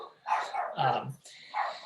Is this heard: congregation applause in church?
no